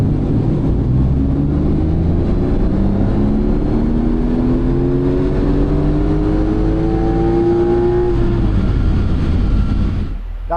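Porsche 911 Turbo S engine on a dyno run, a loud close roar climbing steadily in pitch through the gears for about eight seconds before cutting off abruptly near the end.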